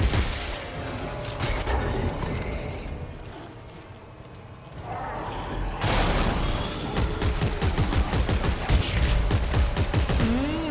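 Bursts of gunfire from the video game Dead Space 3, rapid loud volleys that fade to a lull and then return as dense, continuous shooting.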